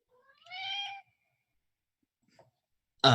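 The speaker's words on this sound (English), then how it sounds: "That cat I feel is like the cat's pissed" A cat gives a single clear, fairly close meow, followed by near silence with a faint scuff, then another loud burst of sound right at the end.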